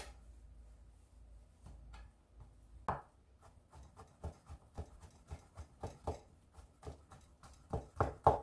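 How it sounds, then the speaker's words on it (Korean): A knife cuts shiitake mushrooms into thin julienne strips on a cutting board while a Korean rice porridge with beef is prepared. Sparse taps at first build into a quicker, steady run of crisp close chops. "위아래로 3cm 정도를 준비하셔서 자르시고 그 다음에 채를 썰어 주시면 됩니다"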